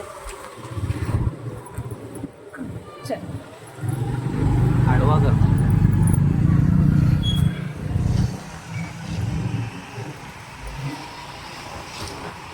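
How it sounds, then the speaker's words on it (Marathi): A car engine starting up and running, a low rumbling drone that swells in the middle and then settles, with people talking nearby over it. "आता यांनी गाडी चालू केली आहे"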